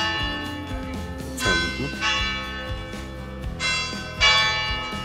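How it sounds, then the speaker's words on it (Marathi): Church bells ring out in the Alpine village of Zermatt, Switzerland, with several loud, resonant strikes in an uneven sequence and long ringing decay between them. A voice speaks briefly and quietly. "चर्चची बेल झाली, 2 वाजले"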